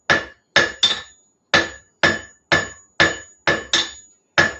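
A hammer strikes forge-welded steel while drawing it out for a wheat twist, ringing metallic blows at an uneven pace, about ten in all, close and loud with no voices.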